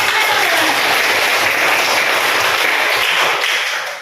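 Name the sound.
children clapping hands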